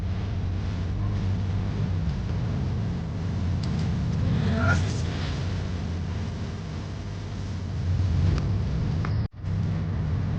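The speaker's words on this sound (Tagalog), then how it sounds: "Grabe ang traffic ngayon dito mga kagawad sa EDSA." Steady road traffic on EDSA, a dense continuous rumble of engines and tyres with a constant hum beneath and a brief dropout near the end, and no clear talk over it.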